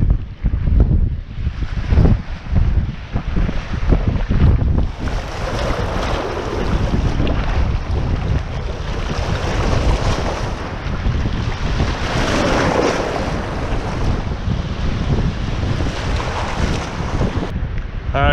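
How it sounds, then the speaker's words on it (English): Strong wind buffets the microphone at the Capilano River estuary near Ambleside Beach, a loud continuous roar with gusty rumbling throughout, no voices heard. "All right, guys, it is frickin' windy."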